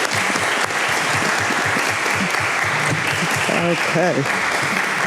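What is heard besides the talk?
audience applause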